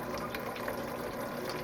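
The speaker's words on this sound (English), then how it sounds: "we're hearing now is the water starting to turn on in the garden" Water pump starting up in an indoor tower garden, a steady low hum mixed with trickling, bubbling water that runs continuously at moderate level.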